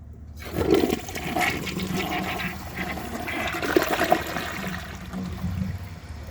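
A 2009 Gerber Avalanche high-efficiency toilet flushes with a loud, close rush of water that swirls and drains steadily, then trickles away.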